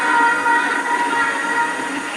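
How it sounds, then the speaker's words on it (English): A train rolling through the vineyards of South Africa's Western Cape gives a steady, loud rumble and rattle of wheels and carriages, even and unbroken throughout. "the train rolls through the fertile vineyards of the Western Cape"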